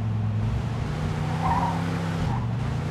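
A car drives in Mafia 2 Definitive Edition, its engine droning steadily with a brief tire squeal or skid in the middle, close and continuous with no talking.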